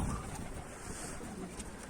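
Pigeons cooing around a mosque, a low soft murmur of calls close by over steady outdoor background noise, with no talking.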